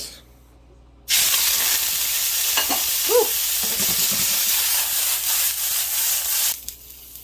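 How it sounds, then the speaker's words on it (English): Green beans hit a smoking hot pan with a little oil over medium-high heat and burst into a loud, steady sizzle and hiss. The sizzling runs close and continuous for several seconds with some stirring, then cuts off. "On to the green beans. Smoking hot pan, medium-high heat. A little bit of oil in there."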